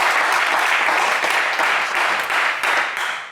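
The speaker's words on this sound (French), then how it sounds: "on applaudit Nguessan, s'il vous plaît" Studio audience applause for a contestant on the French game show Le Coffre Magic: a brief, loud, full burst of many hands clapping that tapers off slightly at the close.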